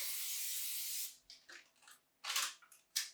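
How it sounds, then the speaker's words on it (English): Cooking spray hisses from an aerosol can into a cake pan in one sustained, close burst of about a second. Short clicks and two more quick spray bursts follow. "I'm going to spray on top too"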